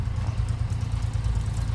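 A tractor engine runs out in a farm field with a steady, heavy low rumble and clattering throb, loud and close, with no voices.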